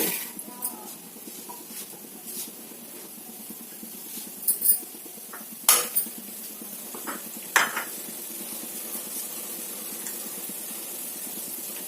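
Mustard seeds and cumin sizzle quietly in hot oil while radish fry is prepared, a faint continuous hiss punctuated by a few sharp pops and metallic clinks of utensils.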